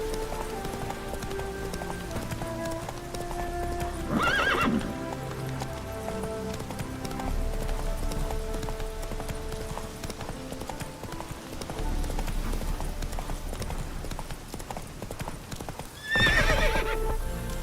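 Geralt's horse Roach from The Witcher 3 gallops with a steady, rapid clip-clop of hooves, broken by two loud neighs near the middle and the end, amid a faint rain-like patter and musical background.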